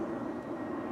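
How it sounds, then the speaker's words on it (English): Fixed-wing airplane passing overhead at a state park, a steady broad engine drone holding at constant loudness throughout with no voices. "Another airplane going by."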